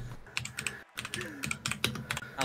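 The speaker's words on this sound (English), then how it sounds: "Someone's typing. Oh, Gav's typing." Rapid clattering keystrokes on a computer keyboard, irregular bursts of clicks with a brief pause near the middle, close and fairly loud with no voices over them.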